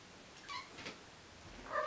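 A house cat meows softly a couple of times nearby in a quiet room, short faint calls with a brief pause between them.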